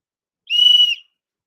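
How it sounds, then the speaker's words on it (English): A flat keychain whistle gives one loud, piercing, steady blast lasting about half a second, set against silence. "So this is a whistle, a very flat whistle here."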